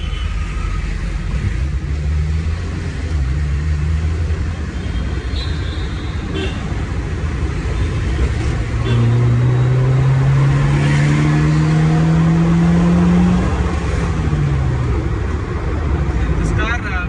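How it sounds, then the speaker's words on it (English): A JDM car engine revs and pulls steadily through the gears, heard loud from inside the cabin with the windows down, rising tones over road and wind noise while someone talks. "See the way this engine revs"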